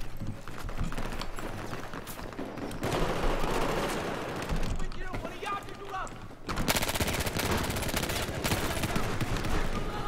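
Rapid close-range gunfire from a Battlefield 4 match, dense bursts of shots crackling loud and near in long stretches with brief gaps, over constant game noise.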